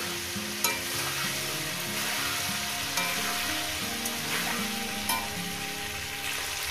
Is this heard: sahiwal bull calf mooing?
no